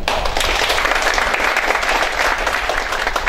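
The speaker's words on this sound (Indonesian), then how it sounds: "Tepuk tangan dong." Steady, dense audience applause at a game-industry talk session in Surabaya, loud and sustained without a break, with no voices over it.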